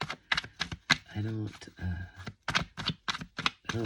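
Playing cards are shuffled in quick bursts of crisp, papery snapping, close up, while a person talks in between.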